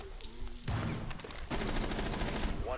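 Gunfire in Rainbow Six Siege, a rapid automatic burst starting abruptly and continuing in fast rattling volleys, close and fairly loud, with a faint voice briefly at the start.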